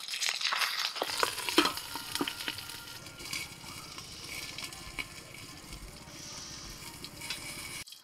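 Marinated bhetki fish sizzles in a little hot oil in a kadai after a louder burst at the start, the crackle settling into a soft, steady fry with no talking.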